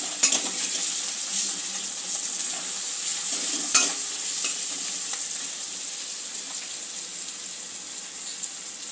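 Turmeric and chili powder spice mix sizzles softly in a hot pan while being stirred, with faint scraping and a couple of light utensil taps over a constant gentle hiss.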